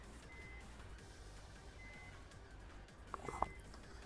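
Steady, thin electronic beeps from a video game, repeating at a slow regular interval over a low hum, joined near the end by a couple of brighter chime-like tones.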